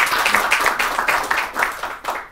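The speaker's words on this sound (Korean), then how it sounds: "우리 감사의 박수를 한번 쳐드리겠습니다." At an academic seminar, the audience gives a short round of thankful applause: close, fairly loud clapping with a rhythmic pulse that thins and fades toward the end.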